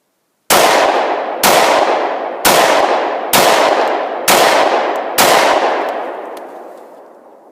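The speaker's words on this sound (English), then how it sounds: "I thought we'd come outside and actually shoot off a couple rounds first" Six loud, sharp shots from a personal firearm fired outdoors, evenly spaced about a second apart, each followed by a long echoing decay.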